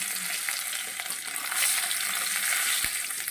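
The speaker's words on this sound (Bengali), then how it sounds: "ওই মাছ ভাজা তেলে আমি দিয়ে দেব কিছুটা রাঁধুনি আর দিয়ে দেব থেতো করে রাখা রসুন" Radhuni seeds and crushed garlic sizzle in oil left over from frying fish, a close, steady crackling hiss with a single sharp click, and no one talking.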